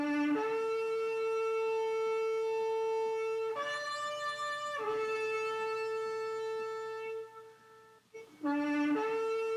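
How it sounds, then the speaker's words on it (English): A shofar, a ram's horn, blown in several long, loud, brassy sustained blasts with rich harmonics and brief breaks between them, heard alone. "here's the sound of somebody playing the shofar"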